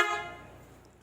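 PIAA super bass horn fitted to a Kawasaki Z1000 motorcycle gives one short, loud honk that fades quickly.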